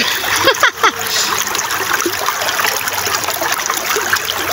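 River water splashes and churns steadily throughout, with a couple of louder sloshes near the start.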